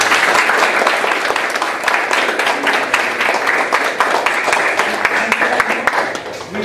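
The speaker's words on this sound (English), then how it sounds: "So let's have a round of applause." Loud, sustained applause from an audience at a Kalari martial arts event with Dubai Police, many hands clapping densely with sharp individual claps standing out, thinning slightly at the end.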